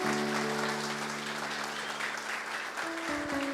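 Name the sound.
audience applauding in church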